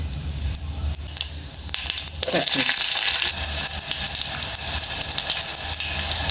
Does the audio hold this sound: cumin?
yes